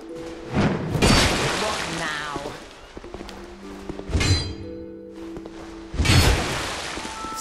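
Weapon strikes land on an unarmed NPC in Dark Souls 2 as three loud, crashing impacts spaced a couple of seconds apart, each with a shattering burst and lingering ring, quieter clatter between them.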